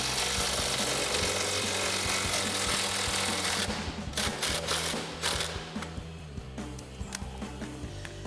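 A 3/8-inch impact gun with an 18mm socket works a front suspension bolt on a 2017-2025 Ford F-250 Super Duty, rattling in loud continuous bursts that then break into short hammering pulses.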